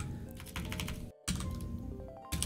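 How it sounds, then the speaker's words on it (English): Rapid, irregular clicking of keys on a computer keyboard, close and steady, with a brief silent gap midway and no voices. "Just use your keyboard to type."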